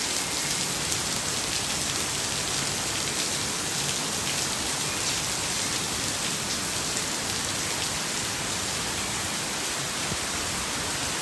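Steady, heavy rain pours down outdoors in Singapore, an even, dense hiss with no breaks, nearby and fairly loud, with no voices.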